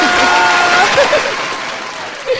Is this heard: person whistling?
no